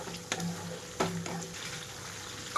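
Stuffed bitter gourd pieces frying in a lidded pan over medium flame, a soft, fairly quiet sizzle with a couple of short knocks as pieces are turned.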